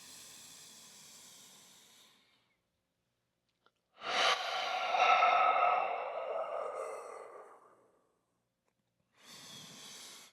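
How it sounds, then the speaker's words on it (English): One slow breath drawn in through the nose and then let out fully, soft airy hisses close to the ear with silent pauses around them. "breathe in again through your nose. And then breathe all the way out again."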